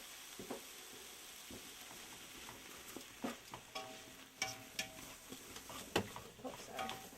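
Spices being whisked into a pot of vegetarian chili, quiet sizzling under a series of light scraping and tapping strokes against the pan, irregular and close.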